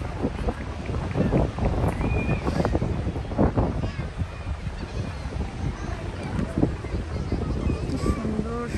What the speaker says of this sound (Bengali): ঠান্ডা, খুবই বাতাস, এত বাতাস আমি হয়তো বুঝাইতে পারতেছি না।